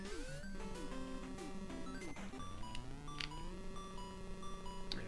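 In the NES game Disney Adventures in the Magic Kingdom, the timer warning sounds as a run of electronic beeps over chiptune music, clear and repeating, with no voices.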